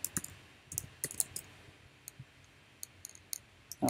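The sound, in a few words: typing on a computer keyboard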